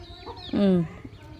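A native country chicken gives a single short cluck close by over faint background noise.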